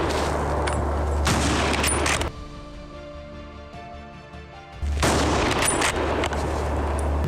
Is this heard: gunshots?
yes